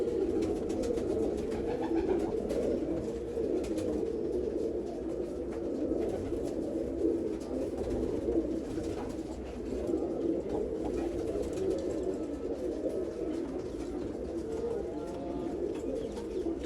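Pigeons coo steadily and continuously, a low throaty warbling that fills the scene without pause, several birds close by.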